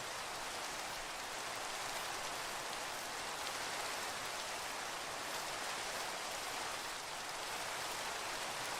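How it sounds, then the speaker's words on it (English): Steady, dense rainfall in Minecraft hisses evenly throughout, a continuous wash of drops with no pauses and no voices. "Oh, it started raining."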